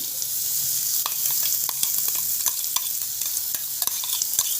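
Chili and garlic paste fries in hot oil, a steady close sizzle broken by frequent scraping stirs of a spatula against the pan.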